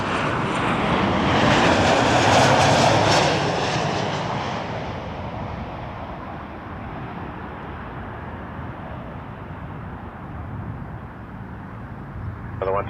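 A Swoop airliner at Toronto Pearson Airport roars past nearby, its broadband engine noise swelling to a peak early and then easing into a steady fading rumble.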